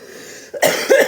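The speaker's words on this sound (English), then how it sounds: "That cough has not gone away yet" A single person coughs twice in quick succession, close and fairly loud, after a brief quiet moment.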